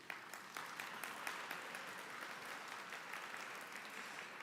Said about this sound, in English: a big round of applause to you all